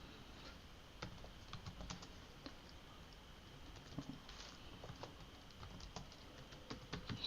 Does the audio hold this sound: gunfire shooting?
no